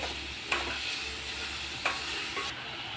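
Grated raw mango and sugar stir together in a pan over low heat, a soft continuous sizzle broken by two distinct scraping strokes of the spoon, no voices.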